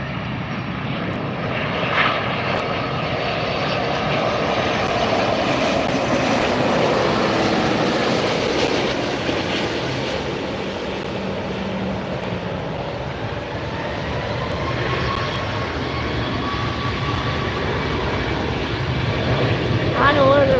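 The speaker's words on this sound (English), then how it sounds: "And then we have this one coming in. Hawaiian Airlines A380 Flight 10 from" A Hawaiian Airlines A380 on Flight 10 from Honolulu comes in to land at LAX, heard from near the runway as a loud, sustained jet roar that swells and fades across the whole stretch.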